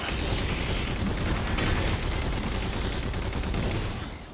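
Halo 4 gunfire roars as a dense, continuous barrage of rapid shots and booms, loud and close, sustained for several seconds.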